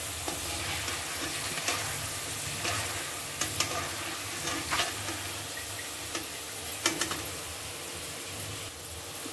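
Field beans fry in a pan with a dense, constant sizzle, while a spoon stirs them and scrapes the metal in sharp, irregular strokes close by.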